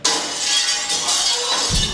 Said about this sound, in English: She smashes the case and glass flies everywhere.